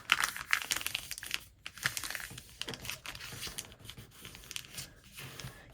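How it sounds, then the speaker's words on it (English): A paper lunch bag is folded and creased for a junk journal mini album, giving close, quiet crinkling and rustling in uneven bursts, with soft scraping of the paper and no speech. "I am going to take this first bag and I'm going to fold it"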